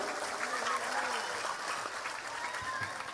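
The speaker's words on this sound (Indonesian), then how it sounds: "Tepuk tangan dulu dong." Audience applause at an Eid religious study gathering, moderate clapping from a crowd with some voices and calls audible over it.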